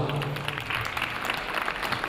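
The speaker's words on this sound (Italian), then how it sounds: "questo è il vostro applauso." Audience at a fashion show clapping, a steady, dense patter of applause from a crowd filling the whole short stretch.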